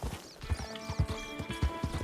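A horse's hooves clip-clop in Red Dead Redemption 2, a steady walking rhythm of soft thuds with faint game ambience behind it.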